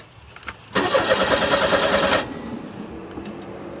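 The engine of a homemade redneck roller coaster cranks and catches, giving a loud rattling starter whir for about a second and a half, then settles into a lower, steady idle.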